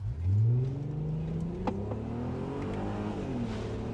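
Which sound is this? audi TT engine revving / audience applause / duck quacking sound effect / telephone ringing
audi TT engine revving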